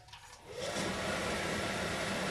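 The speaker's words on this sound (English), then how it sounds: "this cheap extractor from Marketplace does a fantastic job getting rid of all the smells" A cheap fume extractor on a workbench starts up after a short quiet moment and then runs as a steady, close, even whirring hum to the end.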